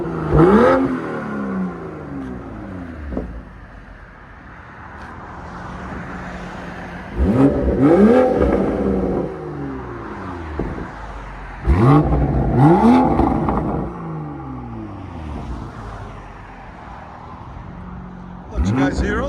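A Toyota Supra GR with a 3.0L inline-six and aftermarket exhaust revs in several sharp bursts, each climbing and falling back to a quieter idle, close by, with people talking between revs.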